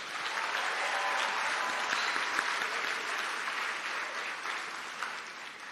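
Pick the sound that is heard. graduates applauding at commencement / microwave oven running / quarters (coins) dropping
graduates applauding at commencement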